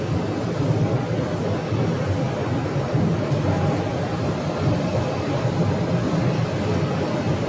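An American Airlines jet bound for Chicago O'Hare, a 737-800, roars steadily at Phoenix airport as a loud, continuous broadband engine rumble that holds level throughout with no talking.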